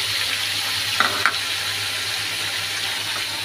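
Meat frying in a pan with cumin, chili and turmeric: a steady, loud broadband sizzle throughout, with two brief clinks of a utensil near the start and no talking.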